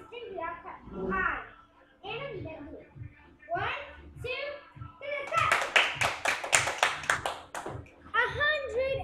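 Hands clap in a quick burst of about a dozen sharp, close claps celebrating 101 subscribers, preceded and followed by someone talking.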